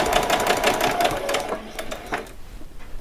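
A sewing machine back-stitches on a doll's saree, its rapid, even stitching pulses running loud and close before easing off and fading toward the end.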